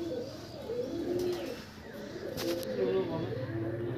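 Madras pigeons cooing inside a loft, repeated low throaty coos rising and falling at close range over steady background noise, with a person speaking at times.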